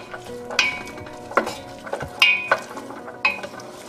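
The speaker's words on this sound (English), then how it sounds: "So we're sauteing the carrots," Onions and carrots sautéing in a pan for Italian wedding soup: a soft sizzle underneath, with several sharp metallic clinks and scrapes from stirring repeating every second or so, close up and without talk.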